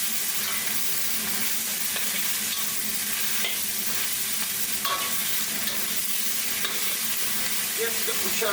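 Vegetables charring as they are stir-fried in a home-made high-output wok station alongside hoisin pork belly, a steady loud sizzle with scraping stirs and occasional clatters running throughout, no voices.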